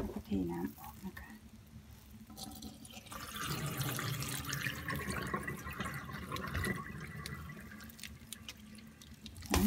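Soaking water being poured off bean sprouts grown at home, a steady watery pour and splashing into a sink that runs through most of the stretch, fairly close, after a brief drip at the start.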